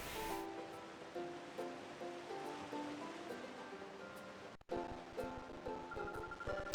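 Soft, continuous surf washes on the coast in Pokemon XD: Gale of Darkness, beneath gentle game music tones, quiet and steady with no voices.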